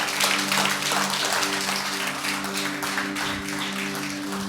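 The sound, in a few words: congregation applauding in church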